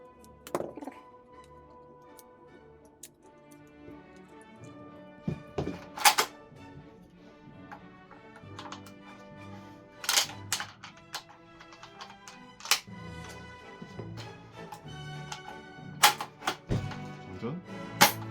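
The bolt of an Academy Kar98k toy rifle is worked repeatedly, giving sharp close plastic clacks and clicks in irregular bursts over a quiet background.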